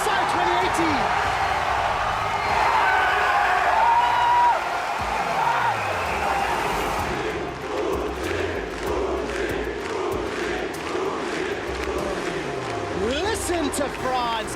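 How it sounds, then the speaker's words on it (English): A large French crowd cheers and roars at the MSI 2018 League of Londons esports tournament, a sustained loud wash of voices with rising shouts, heard alongside talk. "Listen to France as they are cheering for Uzi."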